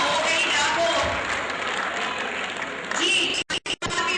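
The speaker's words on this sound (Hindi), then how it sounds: "भरपूर तालियां होनी चाहिए" An audience at the first Rawal award show applauds, a dense steady wash of clapping throughout, briefly broken by short dropouts near the end.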